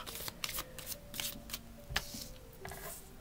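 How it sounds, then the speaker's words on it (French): Tarot cards being shuffled and drawn by hand, close and fairly quiet, with a series of quick riffling bursts and soft flicks and slaps in an irregular rhythm, no talk. "Je vais prendre 2-3 cartes et après peut-être que j'en rajouterai pour voir."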